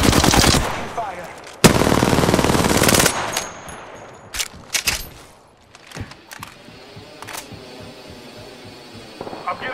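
Automatic gunfire in a battle royale video game rattles in two long, loud bursts early on, followed by scattered single shots and sharp clicks, while a voice speaks faintly in the background.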